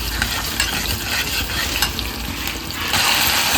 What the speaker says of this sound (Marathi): तेल गरम झालं की आपण याच्यामध्ये जिरा आणि कढीपत्ता घालायचा आहे, आणि हिंग